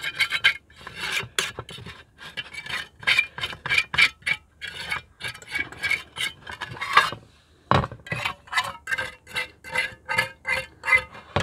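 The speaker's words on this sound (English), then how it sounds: "Clean my frying pan." A frying pan is scrubbed outdoors during a solo ATV camping trip, with quick, rhythmic rasping strokes that repeat close by, broken once by a short knock.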